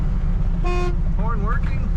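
A 1976 Mercury Monarch's horn gives one short, bright honk, with a wavering voice-like tone following over a steady low engine or road rumble.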